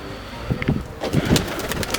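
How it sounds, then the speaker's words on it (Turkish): Soft, low cooing of two pigeons on a balcony in a few repeated phrases, close by, over faint background hiss. "İki tane kuş var."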